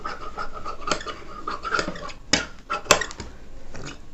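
Scissors cut through blouse collar fabric at a tailoring table, giving a series of soft snips and scraping clicks with a couple of sharper knocks, close and fairly quiet.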